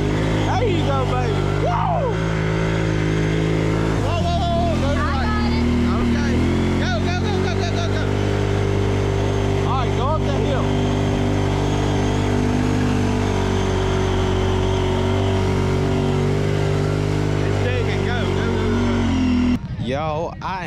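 A Brute ATV ridden at a creek, its engine droning and revving steadily up close for a long stretch while people talk and call out over it.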